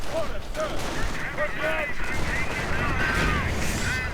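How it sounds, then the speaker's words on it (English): Panther and Sherman tanks trade fire in a World War II strategy game, with rumbling booms and battle noise running steadily under someone talking. "Panther and Sherman dueling."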